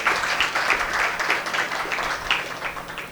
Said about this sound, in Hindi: चलिए एक बार अपने लिए ताली बजा दीजिए